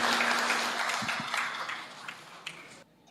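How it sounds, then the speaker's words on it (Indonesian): Church congregation at an anniversary service and history-book launch applauds briefly, a moderate patter of clapping that thins out and stops abruptly near the end, leaving near silence. "Tepuk tangan Bapak dan Ibu."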